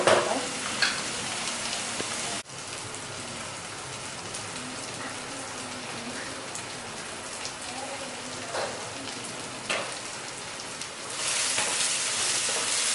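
Chettinad-style masala with elephant foot yam sizzles steadily in a pan, a dense continuous crackle with occasional scraping stirs and brief louder bursts.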